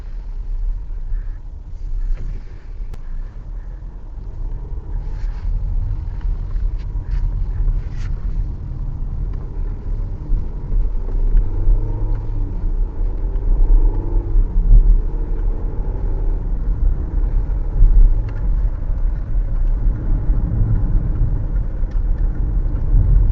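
Range Rover Evoque P200 2020 SUV with automatic gearbox driving, a steady low engine and road rumble throughout with mild swells as it gathers speed, heard from inside the cabin.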